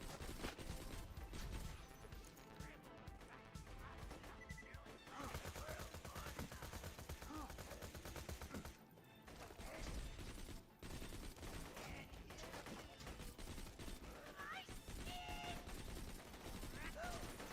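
The Sandhawk firing in Borderlands 2, a rapid, dense, nearly continuous barrage lasting the whole stretch and mixed with other game sounds and clatter.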